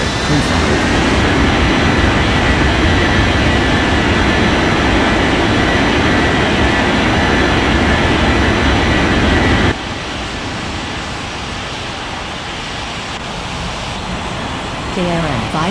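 A loud, steady jet roar and rumbling engine noise of an aircraft taking off in Unmatched Air Traffic Control, sustained for about ten seconds and then dropping to a quieter hum. A voice speaks over it at times.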